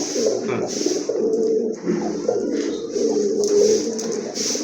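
Several pigeons, including a ring dove, coo steadily in low, rolling murmurs, overlapping close by with a constant background hiss.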